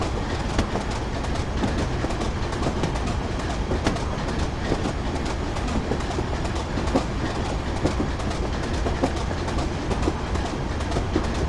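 A train coasts with power idled on the Darlington to Durham via Bishop Auckland route in Train Simulator 2015, giving a loud, continuous rumble of wheels on rails with steady clickety-clack throughout.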